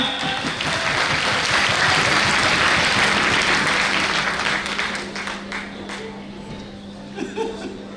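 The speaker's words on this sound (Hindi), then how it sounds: "एक बार जोरदार तालियां" A crowd applauds loudly and steadily at the Delhi Star Award 2024 ceremony, with scattered chuckles mixed in, before the clapping thins and fades toward the end.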